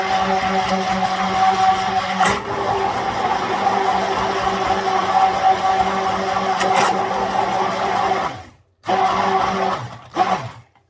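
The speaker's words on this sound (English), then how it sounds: "I'm going to get my blender." An electric stick blender churns cold process Ayurvedic soap batter with a loud, steady motor whir that runs continuously for several seconds, then cuts out and restarts in short bursts near the end.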